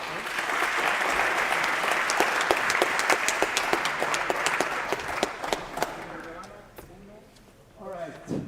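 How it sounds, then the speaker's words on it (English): Audience applause greets two presenters at Venture Day 2023, a dense, loud clapping that holds steady, then thins into scattered claps and fades, with a voice starting to talk near the end. "Big round of applause for Annick and Paris"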